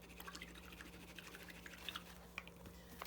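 A paintbrush is swished and rinsed in a water cup while painting with acrylics, giving soft, close, irregular liquid clicks and small drips, quiet and alone.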